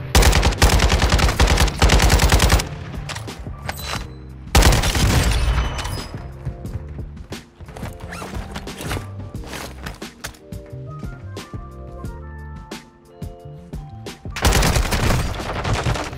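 Call of Duty MW2 Resurgence gameplay fills with dense, loud automatic gunfire in long bursts, dropping to scattered single shots and clicks in the middle before heavy firing returns.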